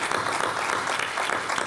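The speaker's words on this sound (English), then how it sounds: "let's give Sam appropriate applause." Dense, steady applause from a conference audience at a live security-themed show in Boston, welcoming a newly appointed CISO, loud and continuous throughout with no break.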